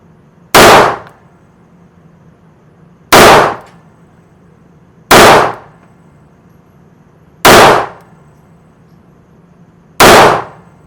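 Five sharp, loud pistol shots from a .380 handgun, a Smith & Wesson Bodyguard or Kimber Micro, fired with hollow-point rounds at an even pace about two seconds apart, each cracking and then fading quickly.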